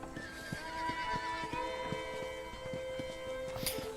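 Horses at a ranch corral in Red Dead Redemption whinny and neigh close by over a steady clip-clop of hooves, with background music playing along.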